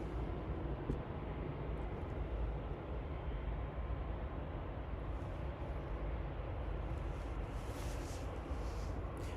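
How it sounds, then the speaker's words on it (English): An EasyJet Airbus A319 arriving from Rome, heard as a continuous broadband roar of jet engines and rushing air that stays loud and steady without a clear rise or fall. "That's an Airbus A319, a 1 hour, 10-minute flight."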